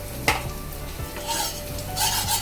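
Makhana (fox nuts) roast in ghee with a soft sizzle while a spoon scrapes and knocks against the pan in quick, uneven strokes, close and fairly loud, with no talking.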